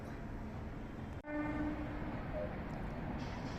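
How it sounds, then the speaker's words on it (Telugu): A distant train running from Krishna Canal station toward Vijayawada, a steady far-off rumble with a brief horn-like tone near the start, heard alone in open surroundings. "అదిగో దూరంగా రైలు వెళుతుంది చూడండి"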